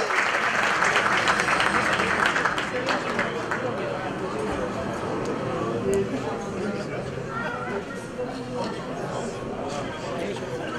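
A hall audience at a sports awards ceremony applauds an air gun shooting champion, the clapping loud and dense at first and then thinning into a steadier patter with chatter mixed in.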